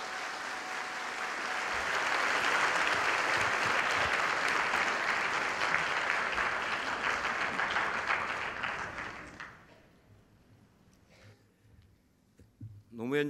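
Audience applause at a commemorative ceremony marking the 7th anniversary of the 10.4 inter-Korean summit declaration, welcoming a speaker: a dense, loud, sustained clapping from a crowd for about nine seconds, then tapering off into quieter room noise.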